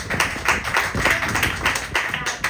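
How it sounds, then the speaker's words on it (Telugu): A church congregation claps hands loudly and quickly together. The irregular bursts of claps run through the whole moment, with faint voices underneath. "కొట్టు చప్పట్ల గట్టిగా"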